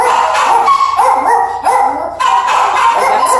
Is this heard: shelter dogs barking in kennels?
yes